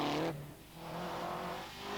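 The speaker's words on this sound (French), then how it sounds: "Bruno Sabi et Daniel Gratalou se mettent dans les conditions de course et testent la voiture" A Lancia rally car driven hard on a closed road during a race-condition test, its engine revving and dropping then building again, loud and close, with no one talking.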